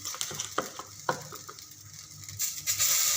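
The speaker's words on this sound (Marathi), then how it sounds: "पॅनकेकच्या आकाराचे मी असे छान असे पोह्याचा उत्तप्पा असा पसरवून घेत आहे" Poha uttapam batter spreads across a hot pan in pancake shapes, sizzling with short scraping strokes, then building to a louder, fuller hiss at the end.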